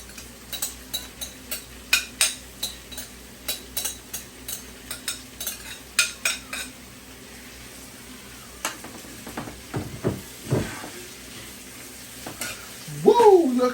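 Saltfish sizzles in a frying pan while being stirred for Jamaican-style ackee and saltfish: steady soft frying under a regular series of scraping stirring strokes, with a brief voice right at the end.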